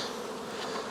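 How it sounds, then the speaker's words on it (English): Honey bees buzz steadily at an open hive with a queen excluder, a dense, close insect hum filling the short moment without any voices. "These are the early May bees."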